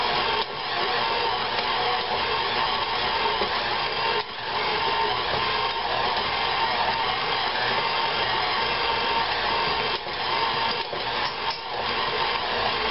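A dough kneading machine mixes pizza dough with a steady, loud motorized whir that runs continuously with only brief dips, no voices present.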